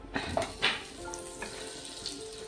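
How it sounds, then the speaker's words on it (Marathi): Butter drops into a little hot oil in a pan for a green chicken dish, a few soft splats and pops at first, then a gentle steady sizzle as it melts. "त्यात आता थोडं बटर टाकूया."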